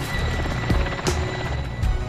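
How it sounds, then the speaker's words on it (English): A helicopter flies over a military patrol, giving a steady, loud rotor thrum with pulsing beats that runs through the whole stretch, with no talk. "What's that chopper?"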